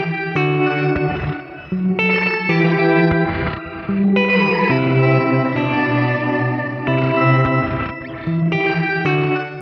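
Electric guitar chords through a Chase Bliss Dark World reverb pedal with an octave-up voice blended in, ringing and shimmering with a chorus-like wash, each chord struck and sustained in a loose rhythm, loud and alone.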